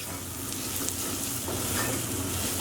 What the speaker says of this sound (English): we're going to add our garlic in. And we just want to cook those together for about a minute